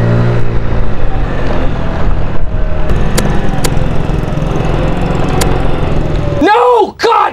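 A Docker Milano motorcycle engine drones loudly during a test ride, with steady engine noise and wind rush, a few sharp clicks, and a rising and falling rev near the end.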